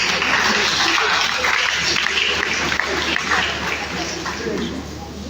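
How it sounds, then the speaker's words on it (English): Audience clapping fills a seminar hall at the Cosmopolitan Women Club's 20th anniversary event, a dense steady patter that stays close and loud for several seconds, with crowd murmur and voices mixed beneath it. "This will deserve a round of applause"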